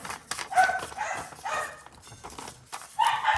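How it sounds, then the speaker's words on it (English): Dogs bark indoors in a home kitchen area, a few moderately distant barks in uneven bursts mixed with shuffling and handling noises, fairly faint overall. "I apologize for the dogs."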